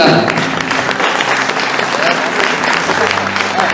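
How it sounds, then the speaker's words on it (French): A crowd at a rally prize ceremony in Normandy applauds a finishing crew, dense sustained clapping that stays loud throughout, with an announcer's voice faintly mixed in. "L'équipage, vous pouvez les applaudir."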